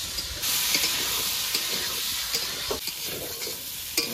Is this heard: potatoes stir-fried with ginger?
yes